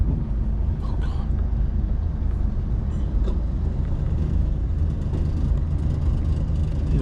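A Dodge Dart's exhaust burbles and gargles while the car drives, a low steady rumble heard from inside the car for about seven seconds, with faint voices mixed in.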